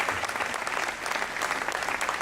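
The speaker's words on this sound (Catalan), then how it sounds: "Moltes gràcies, un aplaudiment." An audience at an independence rally in Catalonia claps steadily and densely throughout, a continuous close wash of applause without pauses.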